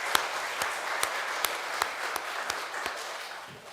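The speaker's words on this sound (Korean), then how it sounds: "우리 감사의 박수 한번 하겠습니다" A church congregation at Sunday worship gives a round of applause, soft steady clapping with a few distinct claps popping out, fairly distant and quiet.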